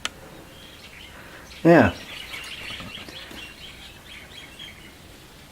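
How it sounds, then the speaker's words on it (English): Outdoors in the evening, one loud, near bird chirp rings out briefly over quiet background noise, and a person speaks a word just before it. "birds are still out."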